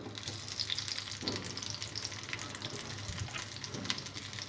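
Cashew and onion pieces sizzle steadily in hot oil in a pan, a dense continuous crackle with faint bubbling, close and moderately quiet, with no voices.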